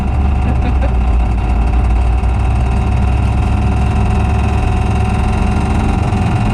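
The engine of a 1969 Ford dump truck runs at a steady, loud mid-pitched drone while the driver works through the gears, with a continuous rumble and no clear break in the sound.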